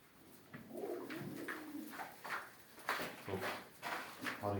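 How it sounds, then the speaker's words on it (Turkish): Domestic pigeons coo in a low, repeated, throaty murmur at a village loft in Dağönü, Turkey, with a few sharp knocks and handling noises mixed in close by. "Bu benim kendi güvercinlerim."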